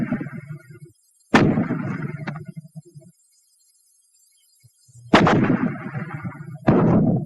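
Fragmentation grenades from WWII-era US infantry weapons burst in two sharp, loud blasts, each followed by a rumbling tail, separated by a long near-silent gap, with a further pair of heavy detonations near the end.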